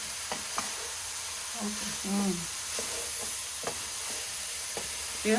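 Grated carrots for gajar halwa frying in a thick nonstick pan, producing an even, constant hissing sizzle with light intermittent stirring scrapes.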